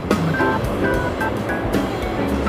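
Coconut milk pours into a pan while cooking spicy laing, a steady liquid rush and sizzle that stays loud and close throughout, with faint clinks now and then.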